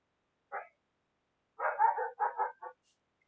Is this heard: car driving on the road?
no